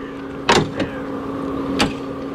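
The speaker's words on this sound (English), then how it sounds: "look at the doors. Soft close on a G-Wagon." Doors on a Mansory G63 G-Wagon Star Trooper pickup pull themselves shut with a soft-close mechanism, giving a few short, muffled clunks over a steady low hum.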